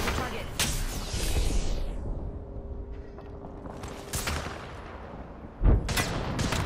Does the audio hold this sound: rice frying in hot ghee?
no